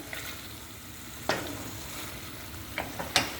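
Eggplant sizzles softly in a frying pan while a utensil scrapes and clacks a few times, gently stirring, with no voices.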